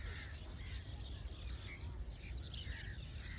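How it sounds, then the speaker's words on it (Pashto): Several birds call faintly around Mashokhel village in Pakistan, giving short scattered chirps over a soft, continuous low background hum. "هر طرف ته مرغۍ دي او اوازونه دي بس"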